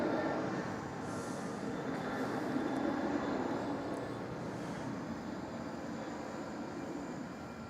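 Virgin Velocity 353 airliner departing Melbourne Airport, a steady broad engine roar that stays loud and even throughout, with no talk over it.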